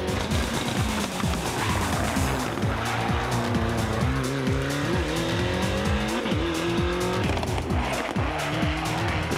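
A Ford Cosworth rally car from 2003 WRC-era Irish rallying races hard, its engine revving up and down loudly and continuously with squealing tires and skidding as it drives fast, close and alone without talk.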